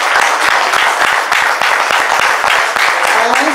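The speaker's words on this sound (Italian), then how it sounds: "vorrei chiedere un applauso grande al nostro maestro Mauro D'Acconte" An audience at a choir concert by Le Voci delle Ville in Ripa Teatina claps for the choir's conductor, Maestro Mauro D'Acconte. The applause is loud, dense and steady, with many hands clapping continuously for the whole stretch.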